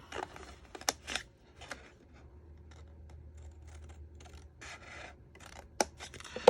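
Scissors cut through Stampin' Up cardstock for a hexagon gift box, giving several close, crisp snips and rasping slices separated by quiet pauses, without any talking.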